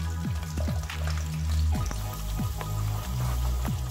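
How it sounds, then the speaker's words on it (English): Butter melting in hot olive oil in a pan for Italian risotto, giving a steady close sizzle with scattered light pops and crackles that recur through the stretch, without talk. "the olive oil and the butter, they are all melted now"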